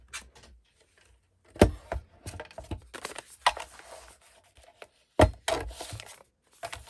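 Paper trimmed for a journal pocket produces close, sharp scissor snips and crisp paper rustles in irregular bursts, separated by brief quiet gaps.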